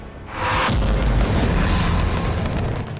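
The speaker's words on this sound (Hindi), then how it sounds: "गोलियों की आवाज से फ्रांस की राजधानी पेरिस गूंज उठी है।" A loud, sustained boom with heavy low rumble and crackling bursts fills a Paris street amid unrest, rolling on continuously for several seconds like close gunfire or explosions with smoke.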